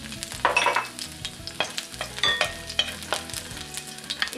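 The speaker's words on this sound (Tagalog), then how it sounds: "Ihulog ang bawang sa pinainit na mantika sa kawali" Garlic dropped into heated oil in a pan sizzles and crackles while being stirred, with bursts of frying noise and scraping over background music.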